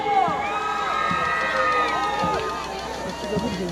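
Young women in a festival crowd at a Pazos 2024 celebration with an orchestra answer with a loud, continuous burst of high shouting and whooping, many voices overlapping in a dense, rising roar.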